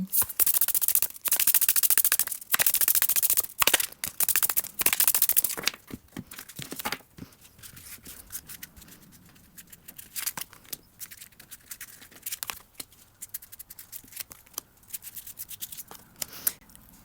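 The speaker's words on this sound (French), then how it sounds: "Je vais mélanger les cartes, les étaler" Tarot cards being shuffled and spread out, loud riffling bursts with sharp snaps early on, then quieter sliding and tapping of cards across a surface.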